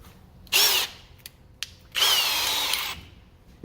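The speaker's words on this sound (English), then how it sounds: "Drill it. Okay, I got my hole all the way through." Two short bursts of a high-pitched power drill whining as it bores a hole with a 2 mm bit, separated by a brief pause with a couple of small clicks.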